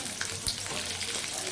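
Potato, beans and eggplant frying in hot oil in a pan, giving a steady close sizzle with a small pop and faint crackles, with no talking.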